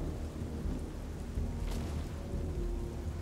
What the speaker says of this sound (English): Storm is incredibly loud.